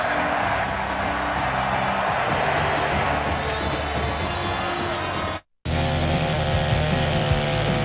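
A Mantis tiller's small engine roars at a steady, loud, buzzing pitch, cut off by a brief silence before running on again.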